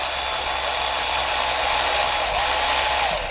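Steady, loud whirring of a socket tool running without pause, used to remove bolts on a 2015-2020 Ford F-series V6 water pump pulley, close and with no talk.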